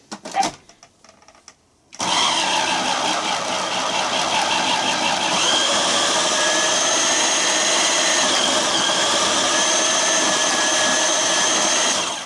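A food processor shreds a block of cheese cut into smaller pieces. A click comes first, then the steady, loud whirring motor runs continuously for about ten seconds, with no talking.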